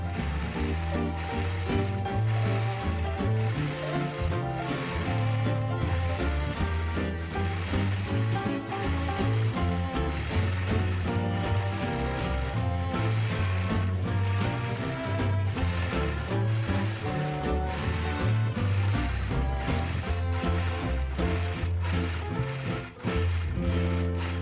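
Sewing machine stitching straight matchstick quilting lines, a rapid, regular mechanical chatter repeating steadily for the whole stretch with brief pauses, close and moderately loud.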